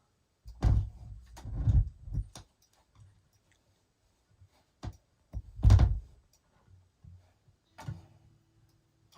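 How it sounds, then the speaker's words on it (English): Irregular low, dull thumps from an electric guitar's pickup in a recording studio, a few heavy bumps with short taps between them and near silence in the gaps. "Your guitar was making a wicked thump"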